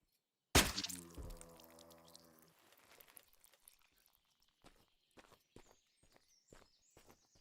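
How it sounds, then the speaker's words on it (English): A heavy handle-hilt thud from a missed weapon strike in the video game Mortal Online 2, one loud close impact with a ringing decay, followed by softer scattered footstep-like clanks. "every once in a while when I miss a hit, that funny sound you hear is a handle hilt"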